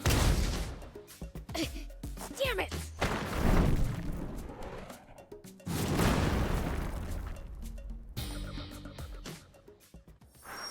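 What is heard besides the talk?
cannon fire in SandLand video game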